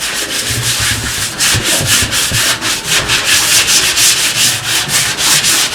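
Hand sanding of wood with sandpaper before a first coat of paint, loud rhythmic scratchy rubbing strokes repeating several times a second, close and steady with no talking.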